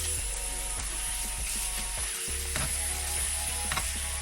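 Seasoned chicken breasts sizzle loudly and steadily in a hot pan, a dense continuous frying hiss with scattered pops and crackles, plus a brief clatter of the pan partway through.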